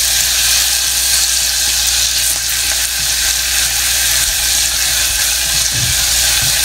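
Garlic stir-frying in a hot pan for fish tikka shashlik barbecue sauce, giving a loud, continuous sizzle with occasional scraping and stirring noises and no talking.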